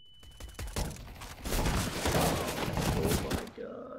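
Gunfire in the Counter-Strike shooter game, a rapid volley of sharp shots that builds into a loud dense burst of firing, then cuts off, with a voice briefly audible at the end.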